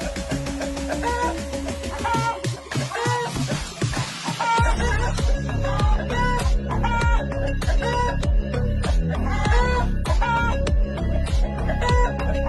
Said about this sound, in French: Voici la poule Brahma.